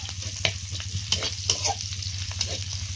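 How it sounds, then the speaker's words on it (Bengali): Greens are stir-fried in oil with garlic, onion and green chili, a close, continuous sizzle broken by repeated scraping clacks of stirring in the pan. "এবার যে রসুন, পেঁয়াজ, কাঁচামরিচ দিয়ে নেড়ে নিচ্ছি, শাকটা ভাজবো"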